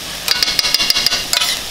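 Sofrito and garlic fry in a pan while a utensil stirs briskly, giving a quick run of close, crisp scraping clicks over a steady sizzle.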